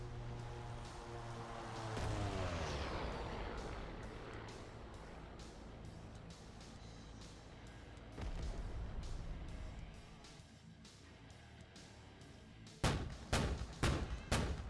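Anti-aircraft gun firing in a combat flight simulator, heard as booming shots and rumbling blasts that swell and fade, with a rapid burst of sharp, loud reports near the end.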